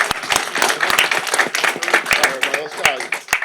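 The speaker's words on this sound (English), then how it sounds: "So another round of applause for everybody." An audience at a parish council meeting claps in a burst of applause, sharp close hand claps with voices and cheers mixed in.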